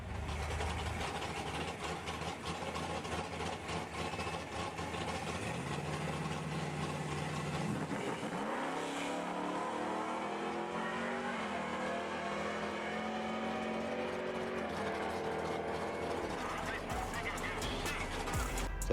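A boosted drag car running about 22 pounds of boost on a stock bottom end makes a pass at the strip. The engine is loud and sustained, and its roar rises in a sweeping rev partway through, with the drone continuing to the end.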